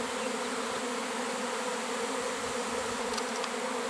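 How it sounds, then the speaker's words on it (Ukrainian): A swarm of honeybees hums at an apiary during swarming season, settling on an apricot tree: a dense, steady buzz fills the air without pause and without any voices. "рій завжди сідає на абрикосу"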